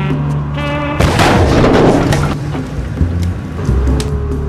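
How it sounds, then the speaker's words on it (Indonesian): A van's trunk explodes in a sudden loud blast over a low engine rumble, then a crackling, rumbling aftermath fades back to the idling drone. "tiba-tiba bagasi van meledak"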